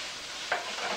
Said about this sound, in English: Stir that a bit.